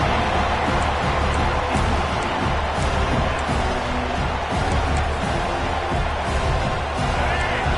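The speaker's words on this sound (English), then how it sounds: "And here comes the noise. This crowd is trying to inspire this defense to make a big red zone stop." A packed football stadium crowd at a Notre Dame vs SMU game roars in a loud, dense, continuous wall of noise while the defense tries for a red zone stop.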